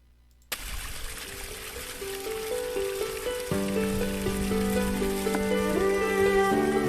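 Flowing, trickling water in a finished classroom project, starting abruptly and running steadily alone, with layered tonal tones building over it and no talk.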